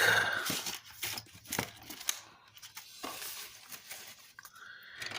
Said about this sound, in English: I'm going to go ahead and cut these corners